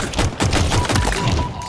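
Rapid gunfire from a pistol in the Halo Infinite video game, several loud cracking shots in quick bursts over dense game effects, filling the short moment with no talking.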